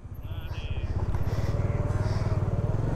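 A Bajaj Dominar 400 motorcycle engine pulses loudly and steadily up close on a highway ride, its throbbing exhaust rhythm building as the bike gets under way, with a few faint tones and clatter on top.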